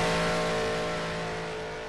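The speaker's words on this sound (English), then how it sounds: "Hold the car on the apex for a split second before opening up the throttle and letting the car run wide as the corner opens up." A race car engine in the Project Cars game accelerates out of the Parabolica at Monza, a loud steady high-revving drone with a slowly shifting pitch and no voices.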